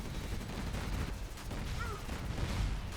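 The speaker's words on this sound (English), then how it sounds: "Another carpet bomb coming in. Oh, Moab. Moab from the sky." A MOAB bomb strike in C&C Generals Evolution registers as a dense, continuous rumble of blasts and distant battlefield fire, steady and somewhat muffled, with a voice talking over it.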